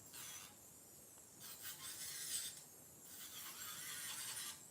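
An electric nail drill fitted with a sanding band works around the cuticles during an acrylic refill, a faint high whirring grind that rises and falls in short passes.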